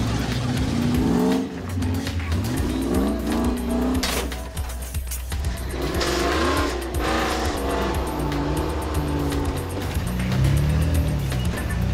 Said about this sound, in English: Claws its way nicely up over these boulders.